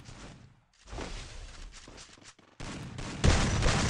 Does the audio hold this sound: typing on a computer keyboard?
no